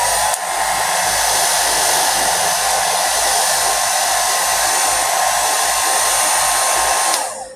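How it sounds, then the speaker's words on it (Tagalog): A hair dryer blows on wet hair after a shower, a loud, steady, close whooshing roar that starts abruptly, holds constant for about seven seconds and then cuts off, with no speech. "Ngayon eh, dryer ko yung aking buhok kasi basa yung aking buhok"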